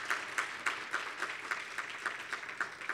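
Audience applause at a students' symposium breakfast, made of a fairly even run of separate claps about three per second, moderately faint, as if from a small group.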